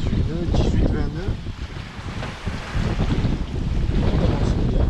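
Wind of 18–20 knots roars over a sailboat at sea on a Strait of Gibraltar crossing, a loud continuous gusting rush buffeting the microphone, with a brief voice or creak breaking through early on.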